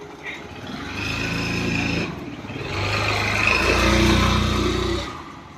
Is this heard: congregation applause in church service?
no